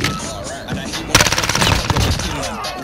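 Rapid automatic gunfire from a light machine gun in Warzone, a fast burst of loud close shots after a moment of game noise, with a voice briefly audible.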